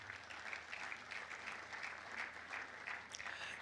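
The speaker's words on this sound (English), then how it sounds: "I want you to put your hands together for Mr. Liu Barituka, co-founder, EdTFi." Steady applause from an audience at a Port Harcourt tech conference, a dense even wash of clapping holding at moderate level throughout with no voices over it.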